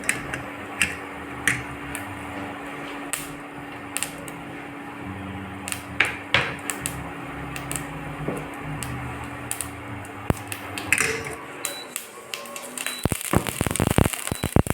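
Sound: mustard seeds spluttering in hot oil

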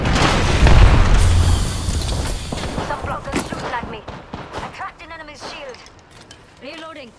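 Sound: arc star grenade explosion in video game Apex Legends

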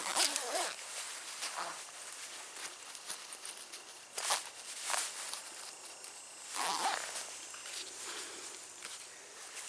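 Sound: zipper of a bug jacket being zipped around

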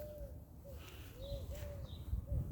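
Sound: pigeon

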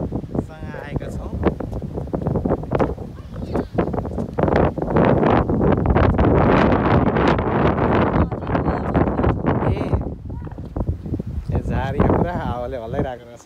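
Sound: wind blowing outdoors by the river

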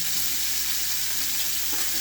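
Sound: tilapia fish frying in oil

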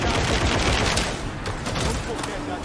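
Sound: gunfire in the video game Warhammer 40K: Darktide

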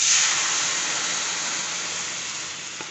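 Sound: dal poured into hot pan with mango and turmeric, sizzling

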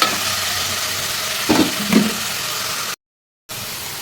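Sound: amaranth leaves frying in oil, stirred

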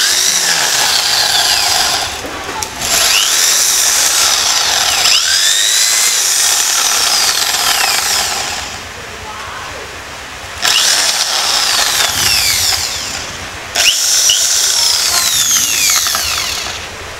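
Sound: electric drill boring into concrete

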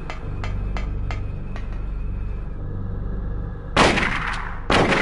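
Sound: gunshot in video game Silent Hill

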